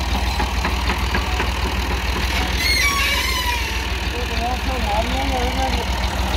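A 240 tractor drives a maize rotavator, its engine idling and knocking steadily up close while someone talks over it.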